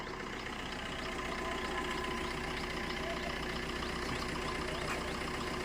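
A car engine idles close by in a steady, continuous low rumble with no voices, as a cousin's car arrives to pick up the party at a village wedding.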